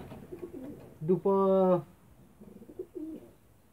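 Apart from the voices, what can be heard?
ornamental pigeons cooing in a breeding loft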